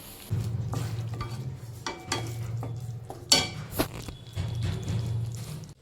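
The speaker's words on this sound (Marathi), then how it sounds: "सामान उचलून मी साईडला केलं आणि येशूसाठी लापसी करायला घेतली." Lapsi porridge being stirred in a pan, a steady scraping stir with low bubbling underneath, broken by a few sharp utensil clinks against the metal.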